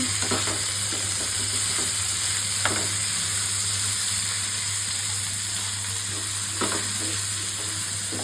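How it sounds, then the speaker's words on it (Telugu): Bitter gourd and onions fry in a pan while being stirred, giving a constant close sizzle with intermittent scraping and clattering spatula strokes. "బాగా మంచిగా వేగేలాగా మిక్స్ చేసి పెట్టుకోవాలి"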